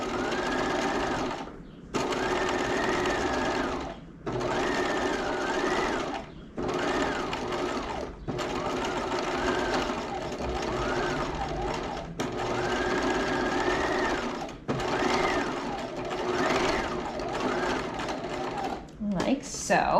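A sewing machine runs a wide zigzag stitch right beside a seam line on a Gardner top, in steady bursts of several seconds separated by short pauses, close and clear with a voice talking over it.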